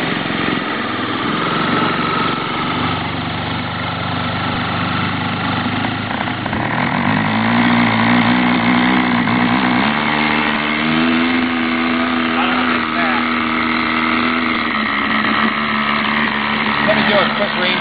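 A small RC airplane engine runs at night, a buzzing drone that shifts pitch upward as the throttle changes and stays continuous and close throughout, with a person speaking over it.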